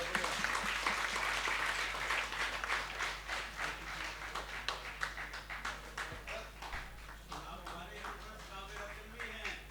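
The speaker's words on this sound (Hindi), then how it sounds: "जोरदार तालियां आपकी" Audience applause at an Indian poetry and honours gathering, many hands clapping steadily for several seconds against a low background hum, then gradually tapering off.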